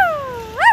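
A child imitates a dog up close, voicing a single drawn-out whining howl that sags in pitch and then swoops up loudly near the end, with no other sound.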